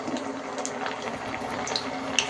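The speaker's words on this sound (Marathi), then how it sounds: "हे आता आपण गरम झालेले तेल असं मस्त तेलात सोडूयात" Gulab jamun balls are dropped into hot frying oil, setting off a soft, steady bubbling and sizzle with faint pops, fairly quiet and unaccompanied by talk.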